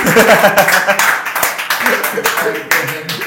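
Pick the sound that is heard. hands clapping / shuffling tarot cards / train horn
hands clapping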